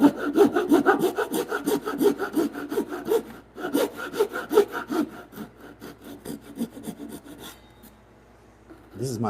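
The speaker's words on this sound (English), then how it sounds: "I've used one of these Ryoba saws for so long." A Japanese Ryoba pull saw cuts timber for a timber-frame bunk bed in steady, rhythmic rasping strokes, close and crisp, slowing and stopping near the end.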